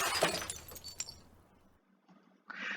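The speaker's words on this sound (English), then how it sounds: "With a tremendous crashing sound, the bottle shatters against my father's head." A glass bottle smashed over a man's head in the visual novel The Labyrinth of Grisaia: one sharp, loud shattering crash with scattering shards, fading to near silence before a brief rustle returns at the end.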